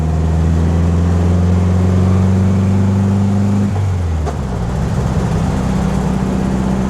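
A 1965 Volkswagen Beetle engine pulls strongly through the gears, a loud steady drone climbing in pitch before a brief dip at a shift and then building again, close and continuous.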